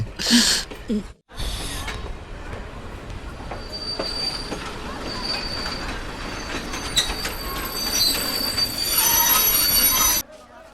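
A train pulls into a station platform with a loud, steady rumble of railcars and sharp squealing wheels. A brief cut comes early, the sound builds near the end, then it stops abruptly.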